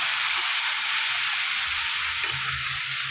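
Spice paste with ground coriander and a splash of water sizzles and fries steadily in a pan for echor kalia, a continuous close hiss with faint stirring and no talk.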